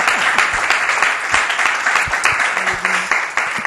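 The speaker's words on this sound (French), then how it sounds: "Alors on peut encore acclamer pour la gloire de Dieu" A church congregation applauds, dense sustained clapping from many hands, loud and close, with voices briefly heard among it.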